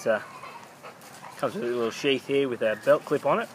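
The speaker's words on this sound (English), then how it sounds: "Excuse my dogs in the background." Dogs bark and yip faintly in the background of a room while someone talks steadily over them in the foreground.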